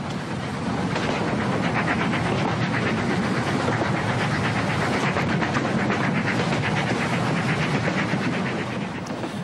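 A Salzkammergut Lokalbahn local railway train runs steadily and loudly throughout, with a continuous rumble and rhythmic clatter of wheels on track.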